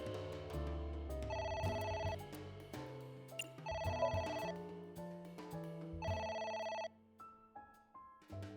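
In the video game AI: The Somnium Files, a phone ringtone plays as a repeating electronic melody with several bright bursts at steady intervals, quiet and alone with no voices over it.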